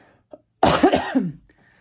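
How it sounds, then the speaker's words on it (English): A single harsh cough bursts out, loud and close, lasting under a second with a short throaty tail, amid near silence. "I'm going to cough. Can't hold it."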